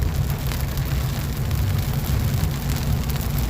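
Steady rain falls outdoors, a continuous dense hiss over a low rumble that holds evenly throughout, with no one speaking.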